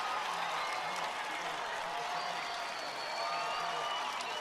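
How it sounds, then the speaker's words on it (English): A stadium crowd at a baseball game cheers and applauds in a steady, dense roar that holds throughout, loud and continuous with no pauses. "the crowd erupts here at Neuroscience Group Field"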